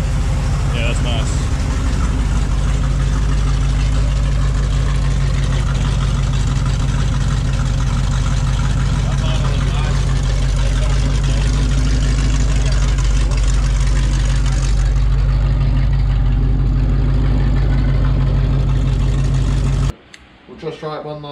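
A Ford 351 Cleveland V8 with a Crane Blue Racer camshaft idles steadily during cam break-in, a loud, even low rumble running continuously for about twenty seconds before cutting off abruptly near the end.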